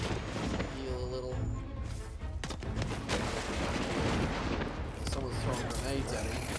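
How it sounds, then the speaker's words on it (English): Grenades go off in the game Dauntless in a dense, loud chain of booming blasts and crashes, overlapping with gunfire-like bursts. A voice is briefly heard through the chaos. "Someone's throwing grenades at him."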